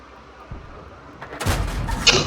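A tank destroyer's main gun fires a blind shot in World of Tanks, a sudden heavy boom followed by a loud, rumbling blast tail, preceded by a softer thud.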